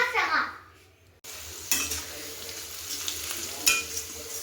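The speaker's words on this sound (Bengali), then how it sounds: "চিকেনের জন্য পেঁয়াজটা ভাজা হয়ে গেছে" Onions fry in oil for chicken: a brief quiet gap, then a sudden sizzle settling into a steady hiss, with occasional stirring scrapes and a faint voice early on.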